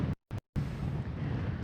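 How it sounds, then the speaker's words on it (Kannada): Strong gusting wind buffets the microphone on a mountain summit, a loud continuous rumble with two brief dropouts near the start, then steady roaring noise throughout. "ಗಾಳಿ ಹೆವಿ, ನಿಮಗೆ ಕೇಳಿಸುತ್ತೋ ಇಲ್ವೋ ಗೊತ್ತಿಲ್ಲ"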